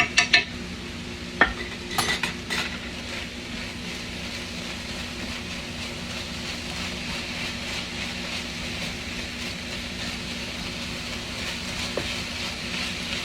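Ground beef browns in a pan for a zucchini casserole, giving a steady, low sizzle throughout. A few sharp utensil clinks open the sound, and one more knock follows later. The pan is close and nobody speaks.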